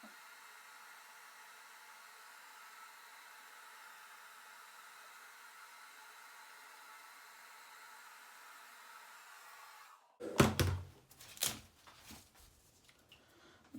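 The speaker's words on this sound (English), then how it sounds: "I'm gonna go grab my blow dryer." A hair blow dryer runs as a faint, steady hiss for about ten seconds, then cuts off and gives way to louder handling clatter and rustling.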